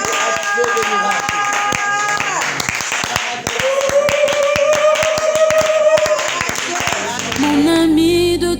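A church congregation claps and cheers to close a prayer, with rhythmic hand claps over loud singing and voices, music carrying throughout.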